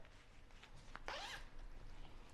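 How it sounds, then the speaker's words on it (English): A zipper on Gore C3 Thermo women's cycling bib tights is pulled open in one quick, close rasp lasting about a quarter second, against a quiet background. "So the zipper, okay, so you can unzip it"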